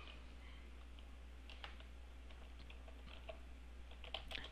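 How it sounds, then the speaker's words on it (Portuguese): Someone types on a computer keyboard while entering text into a program. The keystrokes are faint, scattered clicks over a steady low hum, with no talk. "vou digitar aqui"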